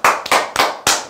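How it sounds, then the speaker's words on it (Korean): Four sharp, loud claps ring out in quick succession, close and crisp, with no talking over them. "박수 한번 주시죠."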